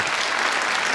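Studio audience applause for a singer on a Korean television talk show: a second of dense, steady clapping without pauses.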